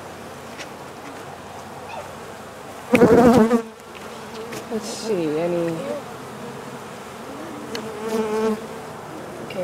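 Honey bees hum and buzz steadily around an opened hive, close by, with a brief loud handling rustle and people talking quietly over the insect drone.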